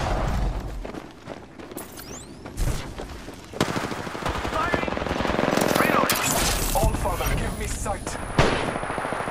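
Gunfire in the shooter game Apex Legends: repeated automatic bursts and single shots crackling at varying distances, with character voices talking over parts of the exchange.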